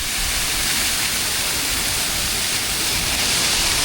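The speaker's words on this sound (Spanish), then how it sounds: "Ya sale el agua de los picos." Fountain water spouting from jets in a plaza in Bulgaria, a steady, loud broadband rush and splash that continues without a break.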